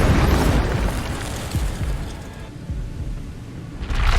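A roaring, crackling burst of fire from the Incendio spell in Hogwarts Legacy, loud and sustained with a dense, noisy rush that dips slightly midway and swells again at the end.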